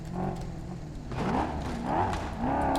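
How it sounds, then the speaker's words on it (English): A Ferrari in the video game BeamNG.drive spins a wheel with one wheel in the air and no locking diff, giving a steady engine drone that swells into repeated revving surges, fairly close, with no talking. "I'm just doing the one wheel peel and it's with the wheel in the air"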